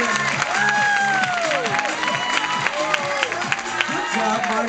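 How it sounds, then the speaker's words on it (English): An audience applauds and cheers for the singer Margaret after her performance of a song, clapping mixed with crowd noise and a lively tune playing underneath. "a round of applause for Margaret"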